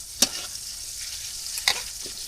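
Spices and ingredients for a village-style khichuri with chickpeas are fried and stirred in a pan, a steady background sizzle broken by two sharp scraping strokes of the spoon, close and with no voices.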